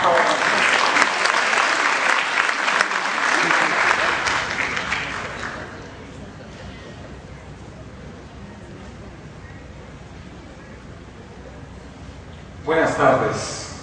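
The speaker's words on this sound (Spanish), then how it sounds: "Un aplauso, por favor." Audience applause for a lecturer just introduced at a conference, loud sustained clapping that fades after about five seconds to quiet room noise, with a brief burst of sound near the end.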